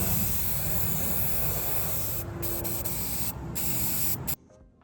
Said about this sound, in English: we're gonna spray paint these with our black spray paint